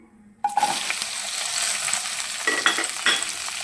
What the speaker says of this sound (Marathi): चला तर मग तेल गरम झालेलं आहे, भेंडी टाकून घेऊया.